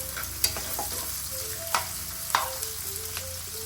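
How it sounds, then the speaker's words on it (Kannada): A pan of food frying on a medium flame gives off a steady sizzle, with a few sharp spoon scrapes and clinks standing out now and then. No one speaks. "ಸ್ವಲ್ಪ ಹಸಿ ಸ್ಮೆಲ್ ಹೋಗೋವರೆಗೂ ಇದನ್ನು ಫ್ರೈ ಮಾಡ್ಕೊತೀನಿ. ಸ್ಟವ್ ಮೀಡಿಯಮ್ ಫ್ಲೇಮಲ್ಲೇ ಇರಬೇಕು,"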